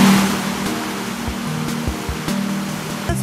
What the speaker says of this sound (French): Ce que tu vois devant toi, le cours d'eau, c'est la Laune.